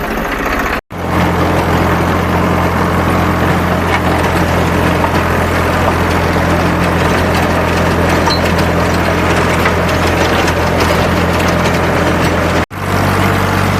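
A tractor-mounted rotavator tills a farm field with a loud, steady engine drone and grinding rumble. The sound cuts out briefly near the start and again near the end.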